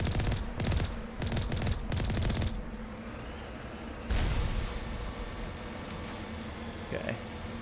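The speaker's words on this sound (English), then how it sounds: "Whoa, I'm being sniped." Sniper rifle fire in the video game Mass Effect, a burst of sharp gunshot cracks early on with a heavy boom midway over a steady game hum, with a voice speaking throughout.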